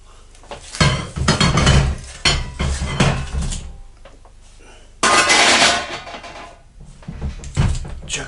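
A steak and ale pie dish lifted out of a home oven, with a run of loud, close metallic clanks and knocks of dishes, trays and the oven door, each separated by brief pauses.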